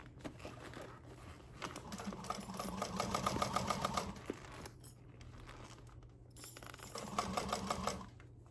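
A sewing machine stitches over a thick seam on cork and vinyl, running in two bursts of rapid mechanical chatter with a pause between them, close up and fairly quiet with no talking.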